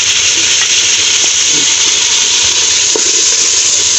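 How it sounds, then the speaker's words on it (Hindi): Chopped tomatoes added to a hot pan of green chili, ginger and garlic paste, sizzling with a loud, steady hiss, close up, with a few soft clinks of stirring and no talking. "अब हमने जो टमाटर रखे हुए थे टमाटर कट करके हमने टमाटर डाल दिए"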